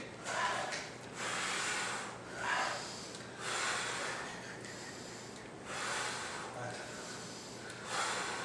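Heavy, rhythmic breathing from people exercising through a tabata interval workout, with loud, close huffing breaths repeating roughly every second or so.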